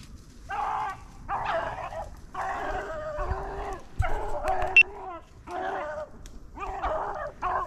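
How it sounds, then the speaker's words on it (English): Hunting dogs bay and bark while chasing a rabbit, a run of repeated, drawn-out yelping cries at moderate distance, coming in uneven bursts with short gaps between them. "So the dogs are on a second rabbit."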